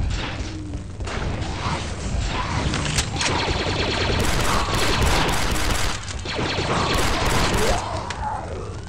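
Sustained automatic blaster fire rattles through a firefight in the Star Wars shooter Republic Commando, dense overlapping bursts with crashes and impacts filling the whole stretch, a brief lull near the middle before the shooting resumes.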